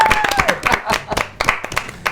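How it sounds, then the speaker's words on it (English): Audience applause with a crowd clapping and brief cheers in a studio setting, a steady patter of many hands sounding fairly close, swelling and fading in uneven bursts. "They look very happy with that applause."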